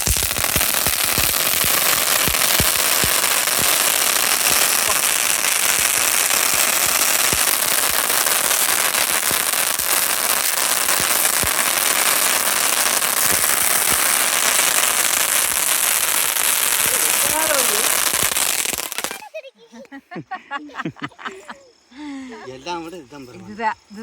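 Dense, continuous crackling of Diwali pen firecrackers popping rapidly for a long stretch, loud and close, then cutting off into quieter background noise.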